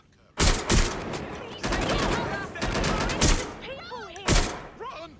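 Gunfire in the video game Watch Dogs: Legion: loud repeated shots and automatic bursts in a sustained volley, followed by whistling, warbling effects and a final sharp report.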